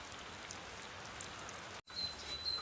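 Rain falls in the Jogne gorges, a steady faint hiss of drops with no talk. The sound breaks off for an instant near the end and then resumes, with a thin high tone over it.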